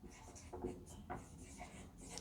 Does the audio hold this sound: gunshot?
no